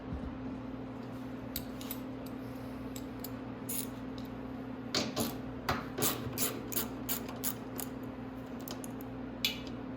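A fuel tank bolt comes off a Venom x22R 250cc motorcycle with a run of quick metallic ticks and clicks from a ratchet, close up over a steady low hum.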